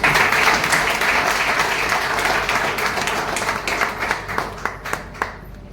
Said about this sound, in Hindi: आप लोगों को मैं चाहूंगा कि एक बार कंपनी के लिए जोरदार ताली।